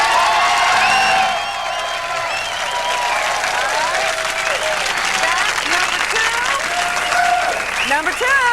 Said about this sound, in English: You applaud for your favorites as loud as you can.